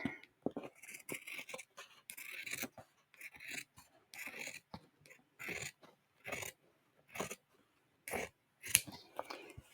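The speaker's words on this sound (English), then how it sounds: "Okay, I need bigger scissors here." Scissors cutting paper for a handmade spring journal, a quiet close run of short crisp snips and rustles in irregular bursts separated by brief silences.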